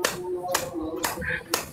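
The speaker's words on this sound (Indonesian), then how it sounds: "Tepuk tangan." Four sharp hand claps at a church sermon, spaced about half a second apart, each a brief broadband burst over a steady room background with speech-like tones between them.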